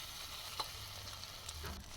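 Potatoes and tomatoes stir-fried with salt in a pan, a steady soft sizzle with light stirring scrapes and an occasional clink of the utensil, heard alone at a low level.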